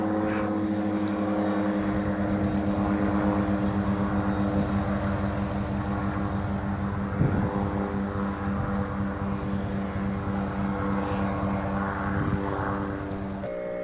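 A propeller-driven light aircraft drones steadily overhead at an airfield, the engine hum holding a constant pitch as it circles around and heads back in, with a crosswind adding faint gusts and rumble.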